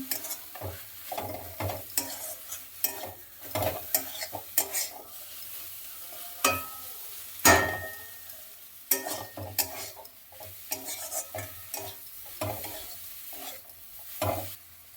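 Cabbage momo filling stirred in a frying pan, a spatula scraping and clattering against the metal in quick irregular strokes over a soft continuous sizzle.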